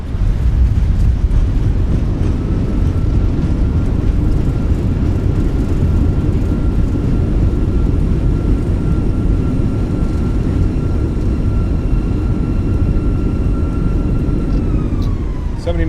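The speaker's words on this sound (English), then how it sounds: "Reversers are out. Decelerating." In a flight simulator, a Fenix A319 rolls out after landing at Campinas with thrust reversers deployed, a loud, sustained roaring rumble with a steady whine that holds, then winds down near the end.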